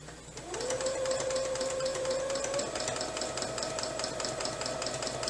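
A small domestic sewing machine quilting runs at a steady whir after a short start, its motor tone holding level and continuous for several seconds with no talk over it.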